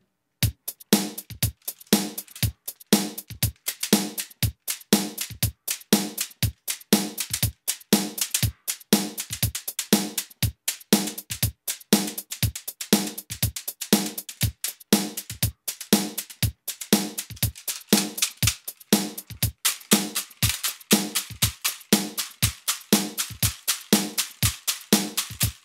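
Homemade split percussion sticks played in a steady groove, a fast regular stream of sharp woody clacks with rattling splits, loud and close, alone for the full length.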